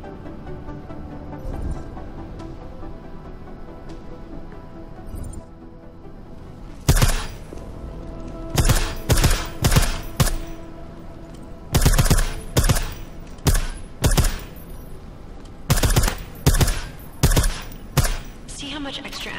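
Suppressed shots from a silenced weapon in Deus Ex: Mankind Divided, a long run of short muffled bursts in quick rhythmic clusters after a quiet stretch of ambient game tones, close and fairly loud.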